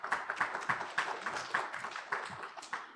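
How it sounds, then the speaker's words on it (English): Audience applause at a cybersecurity conference panel introduction, a dense patter of many hands clapping steadily and fairly close for the full stretch, with no voices on top. "A big round of applause"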